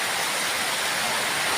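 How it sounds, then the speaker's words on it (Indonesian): Rain falling steadily outdoors at the new year, a dense, even hiss of drops with no breaks, loud and close throughout, with no talking. "Tuh, baraya aduh hujan ya."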